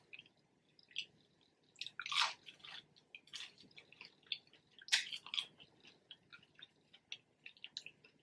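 Close-up chewing of Church's Chicken fries in a quiet room, with soft irregular crunches and wet mouth clicks spread over several seconds and a few louder bites standing out, no voices.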